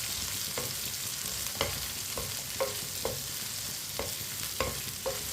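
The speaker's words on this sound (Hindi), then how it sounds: "भिंडी को भी 3-4 मिनट के लिए फ्राई कर लेंगे।" Chopped okra frying in ghee or oil in a pan, a steady close sizzle broken by regular scraping knocks as a spoon stirs it, with no one talking.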